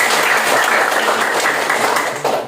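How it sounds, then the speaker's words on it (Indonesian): A classroom of students claps together in a dense, loud burst of applause that holds steady for a couple of seconds, with no one talking over it. "Oke, kita berikan aplaus untuk kita."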